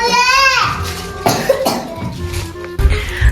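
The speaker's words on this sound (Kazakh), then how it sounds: "Аны сен жөтеліп атсың, не?" A child coughs several times close to the mic, harsh bursts spaced through the moment, mixed with children's voices speaking and crying in a play scene about a doctor giving injections.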